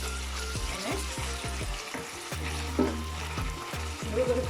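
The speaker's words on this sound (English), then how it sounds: "I'm adding the ginger and the garlic. Just going to give this a mix." Onions, ginger and garlic frying in a pan, a steady close sizzle broken by repeated scraping stirs of a spoon at a regular rhythm.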